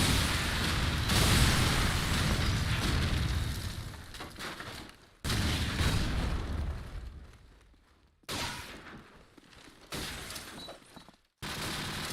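Grenade explosions in Call of Duty 4 promod during a LAN match, a series of loud booming blasts that each fade into rumbling decay, separated by short gaps and abrupt cuts.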